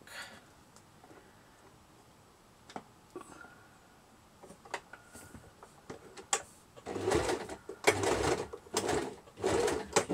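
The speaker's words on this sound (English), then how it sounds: "Back stitch that a little bit there when I think I missed it." A sewing machine back-stitches fabric for a handmade doll accessory, starting with faint ticks and clicks, then running in several loud, close bursts of rapid stitching toward the end, with no talking.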